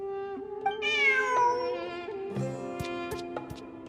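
A cartoonish cat meows in Genshin Impact in a clear, tonal series of drawn-out calls, loud and close, with small clicking sounds near the end.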